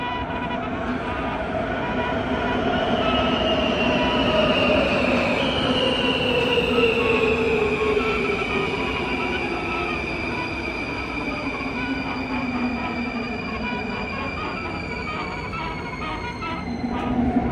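A Skoda-built train on Warsaw metro line M2 runs steadily for the whole stretch, with a loud rolling rumble, rising and falling motor whine, and high squealing wheel tones. No voices are heard.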